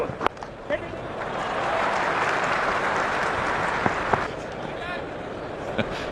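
Spectators at a cricket match, the World Test Championship final, applaud steadily, a broad wash of clapping rising in the middle and tapering off, with a commentator talking over it.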